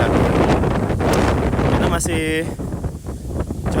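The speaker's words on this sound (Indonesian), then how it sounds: "Sudah berapa hari angin kencang sekali, hujan besar sekali" Strong wind in the Maldives during days of heavy rain, a loud continuous roar buffeting the microphone throughout, with a voice talking over it.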